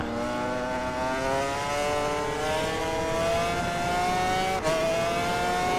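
High-revving engine of a Suter MMX500 racing motorcycle in RIDE 4, rising steadily in pitch as it accelerates with wheelspin on worn tyres, loud and continuous with a brief dip near the end.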